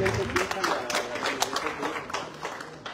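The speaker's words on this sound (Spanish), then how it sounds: "Fuertes los aplausos para el señor Alberto Claudio Pérez Gasman." An audience applauds a municipal official at a community cultural gathering in the Villa de Tututepec, with a steady spread of hand claps that carries on through the whole stretch at moderate loudness.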